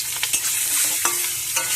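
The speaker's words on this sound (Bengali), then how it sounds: "তেলটা গরম হলে ডিমগুলো ভেজে নেবো।" Eggs lightly shallow-fried in hot oil in a wok, with a steady close sizzle and a few sharp scraping stirs of a spatula throughout.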